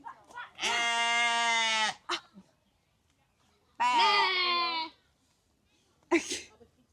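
Two long, loud sheep bleats at a zoo in Zurich, close by, with short pauses and a few brief human voice fragments between them.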